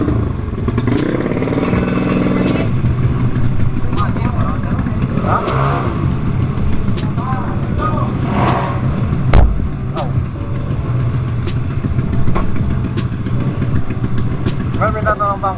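A tuned Honda Beat ESP 125 scooter-type motorcycle circling a racing circuit at Subang, its engine droning steadily throughout with shifting revs, while people talk over it.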